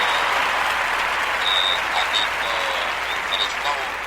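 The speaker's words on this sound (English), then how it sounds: "I gotta give you some claps for that, man." Steady clapping applause fills the whole stretch, dense and continuous at an even level, with a few brighter tones poking through and a speaking voice faintly mixed in.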